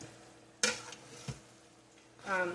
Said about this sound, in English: We're going to stir this in this pot